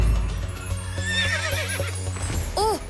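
A cartoon horse gives a high, shaky whinny over a low droning hum, with a few hoof-like clops and a brief rising call at the end.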